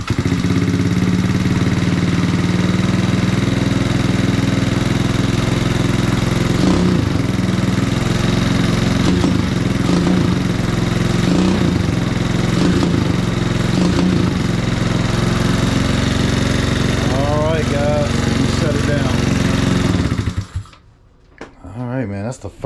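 A 2013 Yamaha Zuma scooter with a swapped-in GY6 engine runs steadily and loud up close, a rough chugging idle with revving bursts and clatter that persists for about twenty seconds before cutting off abruptly near the end.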